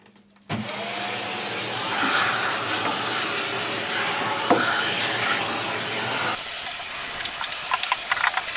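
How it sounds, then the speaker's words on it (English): A vacuum cleaner starts up and runs with a loud, steady roaring hiss inside a small boat hull under construction, the suction tone shifting as it moves. "I'm hoovering out the boat"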